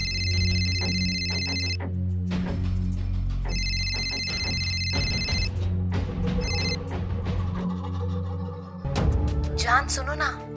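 A mobile phone rings with a repeating electronic ringtone in two clear bursts over a background music bed, then goes quiet as someone speaks and the tune continues.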